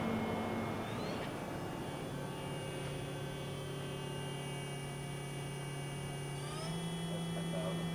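A Mori Seiki 4-axis horizontal machining center spindle spins up, its steady tonal whine and hum stepping upward in pitch twice, loud and continuous with no pauses.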